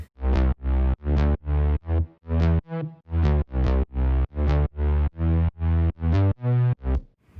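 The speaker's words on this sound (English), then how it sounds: "So the bass line sounds like this." A distorted synth bass line, EDM style, plays a series of punchy, evenly spaced notes, loud and up front with a gritty, buzzy tone and no voices.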